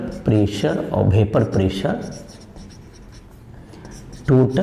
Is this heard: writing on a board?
yes